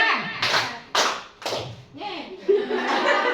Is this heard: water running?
no